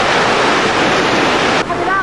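A strong lahar flow of volcanic mud and water rushes past in a river channel, a loud dense roaring wash that continues steadily throughout, close and overwhelming, with wind buffeting.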